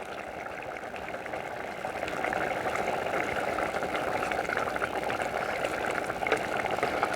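Potato curry with green chillies simmers in a pot, giving a close, steady bubbling that grows slightly louder partway through.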